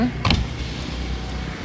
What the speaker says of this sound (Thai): มาเช็คกระจกไฟฟ้าค่ะ